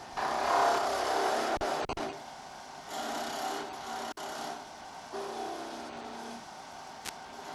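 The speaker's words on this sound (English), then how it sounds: "Turn the lathe back on. Continue with the cuts towards the end of the project." A wood lathe runs while a tool cuts a small finial on a wobble chuck, giving rasping, scraping cuts in several bursts with short pauses between them, close and moderately loud.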